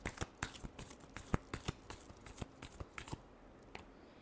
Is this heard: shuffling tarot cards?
yes